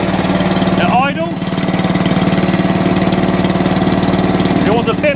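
ATCO Balmoral cylinder lawn mower with a small petrol engine idling steadily and close by, a constant throbbing drone with brief higher whines, while someone talks over it.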